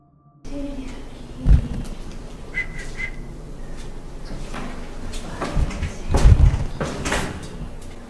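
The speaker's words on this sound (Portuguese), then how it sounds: "uma outra porta, dessa vez ela bate." A door slams shut in a dark setting with a sharp, loud low thump, followed by further heavy knocks and rattling among faint background noise.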